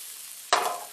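Zucchini browning in a hot pan, stirred once: a quick scraping swish followed by a bright, hissing sizzle that fades slightly, heard up close with no voices.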